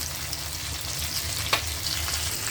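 Pumpkin with salt, turmeric and green chilli fries in a pan for a hilsa fish-head dish, making a soft, continuous sizzle with one brief clack partway through and no talking.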